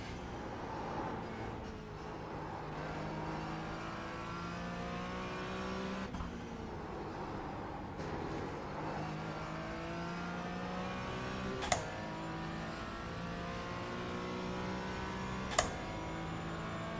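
GT4 race car in a sim racing game on the Nürburgring Nordschleife combined layout, engine droning and revving steadily through gear changes for the whole stretch, with two sharp clicks or knocks near the end.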